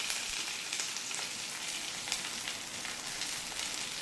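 Garlic and curry leaves sizzle and crackle in hot tempering oil with mustard seeds and cumin, a steady, close frying hiss without pauses or voices.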